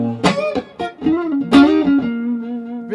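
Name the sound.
budget Telecaster-style electric guitar with dead strings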